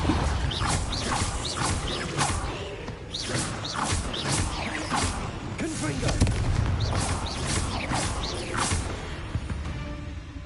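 Repeated blasting-curse explosions in a Hogwarts Legacy spider fight, a steady barrage of booms and whooshing bursts layered over continuous game score and effects throughout.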